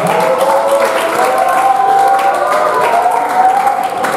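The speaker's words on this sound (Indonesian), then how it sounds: "Tepuk tangan dulu untuk kalian semua." Students and staff at a vocational school project presentation applaud and cheer loudly in a large room, a dense continuous roar of clapping and crowd noise with voices mixed in.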